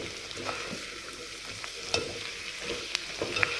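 Capsicum and carrot fry in hot oil for white sauce pasta, a continuous close sizzle with scattered soft clicks of stirring and no voices.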